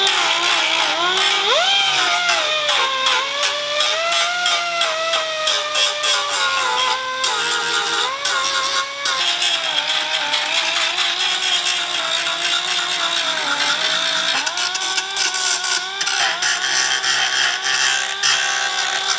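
Power tool gouging out a crack in a plastic car part, a continuous loud whining grind with pitch that wavers as the tool loads and eases, running steadily close up with no talk.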